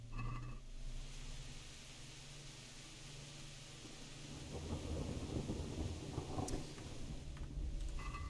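Thunderstorm in Kingdom Come: Deliverance: a deep thunder rumble opens and rolls on under steady hissing rain, which grows heavier and louder toward the end, with no voices.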